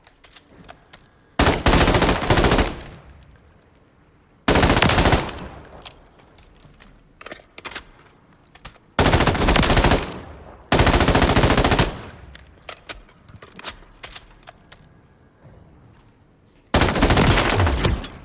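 MCX rifle from Call of Duty Modern Warfare fired at a gun range with a 30-round magazine, heard as several loud bursts of rapid automatic fire separated by short quiet pauses and faint handling clicks.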